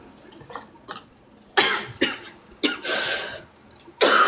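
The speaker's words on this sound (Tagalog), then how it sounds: "Ubo naman." Several sharp coughs, close and fairly loud, spaced irregularly with short quiet gaps between them.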